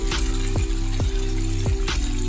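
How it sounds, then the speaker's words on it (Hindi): Water is poured into daal mash frying in a pan, giving a continuous gushing, sizzling wash of sound with a few sharp clinks, close and fairly loud throughout. "अब हम इसमें पानी डाल देंगे"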